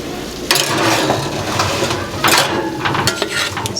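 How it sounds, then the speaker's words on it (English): Sweet potato hash being stirred and turned over in a pan, with several distinct scraping and clattering strokes of a utensil against the metal over a steady sizzle, close up and without talk. "give it a stir and turn everything over"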